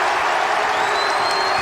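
Arena crowd at a 2005 Horizon League men's basketball championship game between Milwaukee and Detroit Mercy roars and applauds after a slam dunk, a dense sustained wash of cheering with a commentator's voice faintly underneath.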